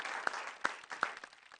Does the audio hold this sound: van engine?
no